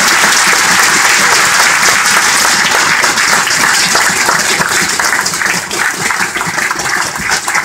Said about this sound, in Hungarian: mindenkinek egy nagy tapsot szeretnék kérni